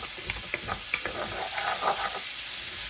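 Sliced onions sauté in a hot pan on medium-low heat, a steady loud sizzle with several sharp scraping stirs of a utensil against the pan bottom near the start.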